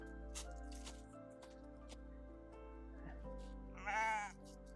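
A sheep on a homestead gives a single clear bleat near the end, after a stretch of steady low hum and faint rustling.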